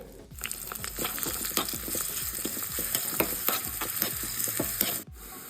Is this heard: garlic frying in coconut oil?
yes